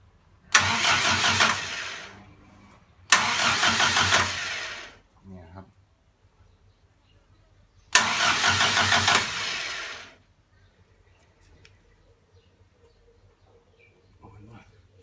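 A Toyota RN20 engine that has sat parked for two years is started: three loud cranking bursts of a couple of seconds each, separated by pauses with faint handling noises.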